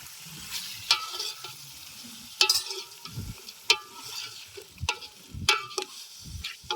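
Country chicken (natu kodi) hits a hot pan and fries with a soft sizzle, broken by sharp metallic scrapes and clanks of a spoon stirring at irregular intervals; no one speaks.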